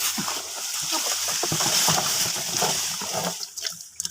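Water splashes and sloshes close up as a lychee branch is soaked, continuous for several seconds before thinning into a few scattered drips, with faint voices in the background.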